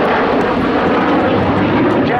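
RAF Red Arrows jets fly past during an air display at the Royal International Air Tattoo, producing a loud, continuous broadband roar of jet engines that fills the whole moment.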